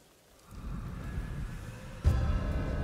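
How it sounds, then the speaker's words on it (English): Rain droplets patter onto water in the game Ghost of Tsushima, a soft, steady hiss that swells slightly and then grows louder partway through, with no voices. "Rain droplets on the water."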